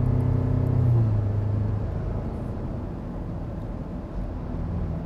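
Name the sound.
Land Rover Defender engine towing a trailer uphill on a highway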